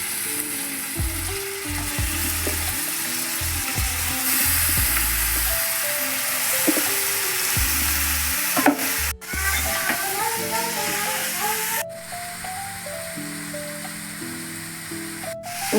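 Chicken pieces frying in a pan with onion and ginger-garlic-coconut paste, a continuous loud sizzle with scraping and stirring clatter, a few knocks and brief pauses along the way.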